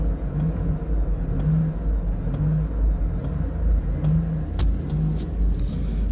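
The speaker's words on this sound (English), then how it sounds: "And now the H2 is running" A Hummer H2 engine idles steadily after being started, a low continuous rumble with a faint periodic whine and a few light clicks, heard close with no talking.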